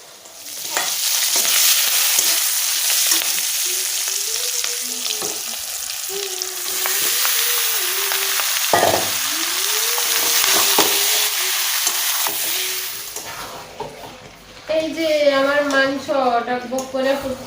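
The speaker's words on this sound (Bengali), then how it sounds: "সব মশলাপাতি দিয়ে এখন কষাইতেছি" Chicken sizzles and fries steadily in a pan with a mix of ground spices, coriander and onion while being stirred, in a home kitchen at night; someone talks over the frying throughout and the loud sizzle continues.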